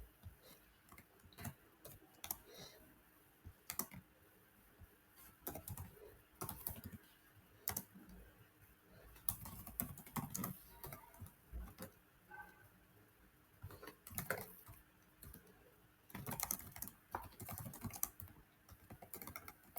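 Go code being typed on a computer keyboard, with irregular bursts of close key clicks and clacks, pauses between runs of keystrokes, and some faint background noise.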